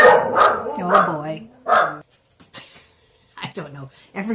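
Dogs bark in a short cluster of loud, close woofs, then go quiet as a person starts talking.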